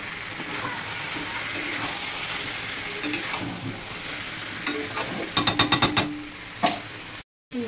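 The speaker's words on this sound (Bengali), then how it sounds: "এই যে মাংস কড়াইতে কষাচ্ছি।" Meat being stir-fried in a wok, a steady sizzle under a run of quick metallic spatula scrapes and clinks toward the end, close and moderately loud.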